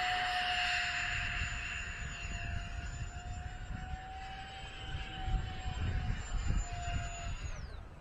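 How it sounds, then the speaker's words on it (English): E-flite Habu SS radio-controlled electric ducted-fan jet flying touch-and-goes produces a steady high-pitched whine that shifts slightly in pitch as it passes, with rumbling wind noise underneath, moderately distant. "Who knew I'd ever enjoy doing touch and goes with an EDF?"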